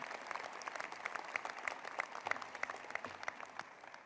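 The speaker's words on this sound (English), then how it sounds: "you should all give yourselves another big round of applause" A law school convocation audience gives itself a round of applause, with many hands clapping in a steady, moderately faint wash and a few sharper individual claps standing out.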